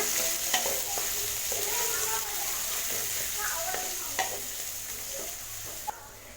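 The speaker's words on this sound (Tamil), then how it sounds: "இது வெங்காயத்தை நல்லா வதக்கிட்டுங்க." Sliced large onion sautéing over medium flame for a black chickpea curry, a continuous frying sizzle broken by repeated spatula stirs and scrapes, up close and fairly loud.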